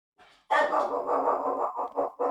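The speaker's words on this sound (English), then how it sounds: "He heard some other dog outside." A dog barks in a quick run of several close, loud woofs of uneven length, alone without talk, reacting to another dog outside.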